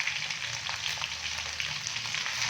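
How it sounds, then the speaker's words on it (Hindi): Ginger, garlic and green chili paste sizzles and fries in hot oil, a continuous close crackling with no talking. "अभी मैं इसके अंदर अदरक लहसुन और सब्ज मिर्च का पेस्ट डालूंगा"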